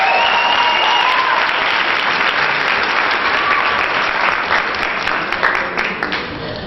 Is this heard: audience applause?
yes